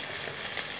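Finely chopped green chili and ginger fry lightly in hot oil for a restaurant-style veg manchurian, giving a soft, steady sizzle with no voices.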